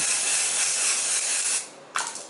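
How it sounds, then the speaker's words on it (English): A UV-cut sunscreen spray gives a steady close-up aerosol hiss for about a second and a half, followed by a brief second puff. "I'm going to be using this UV cut sunscreen spray that I got from Sasa"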